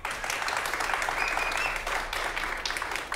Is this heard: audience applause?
yes